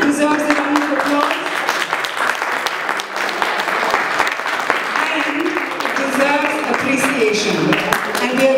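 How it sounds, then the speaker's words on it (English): An audience breaks into a sustained round of applause at a stage event honouring parents, with dense, steady clapping and voices mixed in throughout. "It deserves a round of applause."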